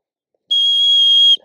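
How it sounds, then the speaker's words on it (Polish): One long, steady, piercing dog-training whistle blast, the signal for down at a distance, sounds loud and close for nearly a second after brief silence. "jeden długi gwizdek to jest komenda, waruj na odległość"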